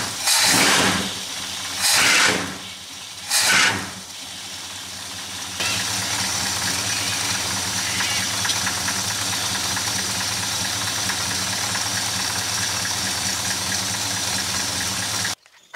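A cold-started Valiant engine runs without choke, a steady rumbling idle that follows a few loud revving bursts at the start and then holds evenly, close and alone with no talk.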